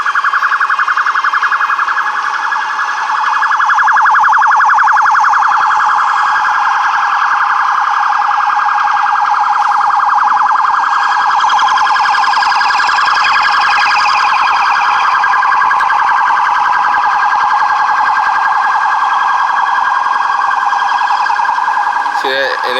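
A police car siren wails loudly and continuously in Boston city traffic, a close, sustained rising-and-falling tone that holds for the whole stretch, with faint talk underneath.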